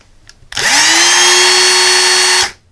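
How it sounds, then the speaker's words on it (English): An electric drill spins up sharply, runs loud and steady for about two seconds, then winds down and stops. "here I have another drill. Let's try this one."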